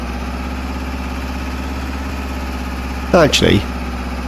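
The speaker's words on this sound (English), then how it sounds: "8 mile an hour, uphill, 60 horsepower tractor, with a trailer full of wood chip." A 60 horsepower tractor in a video game pulls a trailer full of wood chip uphill at about 8 mph, its engine droning in a steady low idle-like hum while someone speaks briefly over it.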